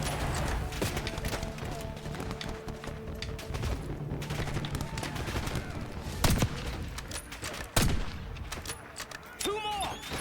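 Call of Duty: Black Ops 6 combat on a bridge with cover fire: dense bursts of rapid gunfire crackle nonstop, punctuated by a few sharp louder shots near the end.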